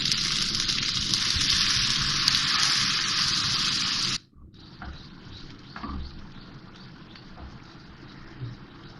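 Water poured into a pan of potatoes makes a loud, hissing gush for about four seconds, then drops to a softer sizzle and bubbling with faint clinks.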